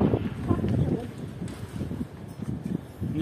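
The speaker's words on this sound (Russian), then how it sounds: "Сегодня достаточно ветрено." Blustery wind off the sea rumbles steadily across the microphone, a loud low roar that rises and falls in gusts for the whole stretch, with no clear voices over it.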